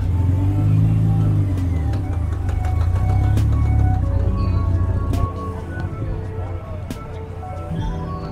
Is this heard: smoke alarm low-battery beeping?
no